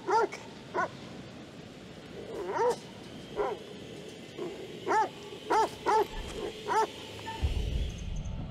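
A dog in the horror video game The Devil in Me gives a run of sharp barks and yips, about ten short bursts in uneven rhythm, fairly close and loud over a murky background rumble.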